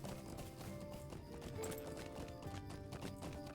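Horse hooves clip-clopping steadily in the Lord of the Rings Online video game as a mount climbs terrain, a continuous rhythmic patter under game music.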